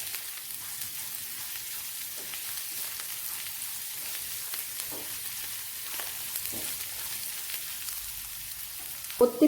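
Curry leaves and a spice mix sautéing in a pan make a steady, even hiss with light crackles, close and moderately loud, ending with a couple of quick knocks; nobody speaks.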